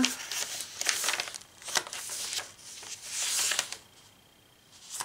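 Close-up crinkling of coffee-dyed paper, an old plan book page, handled in short separate bursts of dry rustling with quiet gaps between them.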